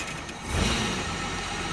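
A Hardtop car engine runs smoothly at a steady idle, a close, continuous mechanical rumble with faint ticking and no change in pace.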